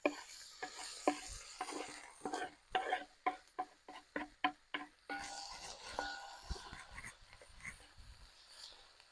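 Onion, tomato and green pepper being stirred in a pan for lamb biryani, with a string of sharp utensil scrapes and knocks over a faint background sizzle.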